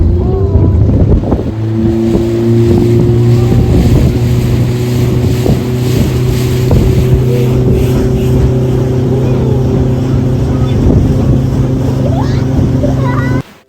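Motorboat ride on water during a resort stay in Munnar, its engine droning loud and steady throughout with a constant low hum and wind buffeting the microphone, stopping abruptly at the very end.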